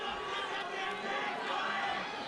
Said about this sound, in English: you can hear the crowd getting a little anxious here